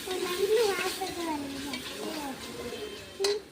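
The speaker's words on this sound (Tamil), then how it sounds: "இப்போ எல்லாத்தையும் வந்து வதக்கிடலாம்" Chicken biryani masala with chilli powder sautéing in a pan, a steady sizzle with scraping stir strokes and a brief metallic clink near the end, no talk over it.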